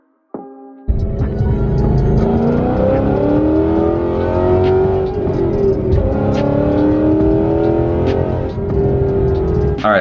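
A 2016 Ford Mustang GT V8 accelerates hard along an open road, the engine roaring loud and close with rising revs through gear changes and a brief dip, sustained for about nine seconds without talk.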